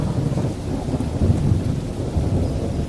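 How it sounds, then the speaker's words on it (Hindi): Steady heavy rain pours down in a dense, continuous roar with a low rumbling undertone. "बारिश जम के हो रही है"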